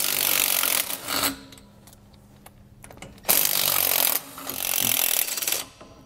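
A 15 millimeter socket on a power tool spins off the nuts holding a brake backing plate on a 2014 Heartland Bighorn fifth wheel RV axle. Two loud, close buzzing bursts are separated by a quieter gap with faint clicks.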